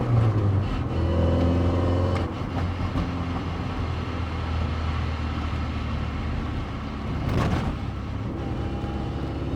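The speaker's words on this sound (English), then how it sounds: "That is excessive noise coming out of the transaxle. I would describe that noise as grindy or like a scraping sound." A Porsche 944 on the move, its transaxle giving off a grinding, scraping drone under steady road and engine noise, continuous and close, with a brief louder swell near the end.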